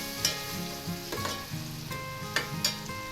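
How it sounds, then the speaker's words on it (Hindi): Onions fry and brown in a pan for Punjabi-style kadhi pakora, a close, steady sizzle broken by several sharp clinks and scrapes of stirring. "हल्का सा कलर देंगे, प्याज को ब्राउन करेंगे।"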